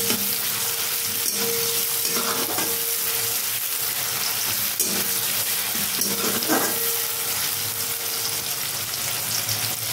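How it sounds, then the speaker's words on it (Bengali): Chopped onion, a medium one, frying steadily in a pan, a continuous soft sizzle with a few stirring scrapes and clinks, close and fairly even throughout. "পেঁয়াজটা ভালো করে ভেজে নেব।"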